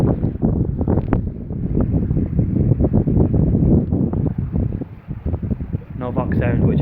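Wind buffets the microphone outdoors beside an old stone dam on a packhorse trail, rumbling in strong uneven gusts throughout, with a voice talking through it.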